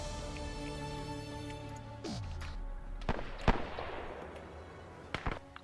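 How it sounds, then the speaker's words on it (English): A rifle fired into the air in the video game Arma 3, a World War II Iron Front operation, gives a few sharp, loud cracks late on over steady background music. "There's the rifle shooting in the air."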